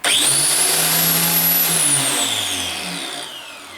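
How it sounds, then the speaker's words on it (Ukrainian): The motor of a Wandeli QXZ ZD-1200 or SHIJING 9033 SJZ-ZD 1200 mm electric tile cutter switches on with a sharp rising whine that holds steady at high pitch, then slowly descends, loud and close. "ось включення двигуна."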